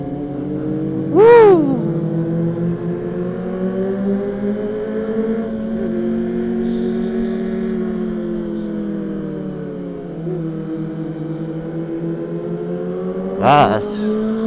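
A car driving and accelerating on a road, its engine humming steadily with rising and falling pitch, with two brief sharp sounds over the top and a voice talking at times.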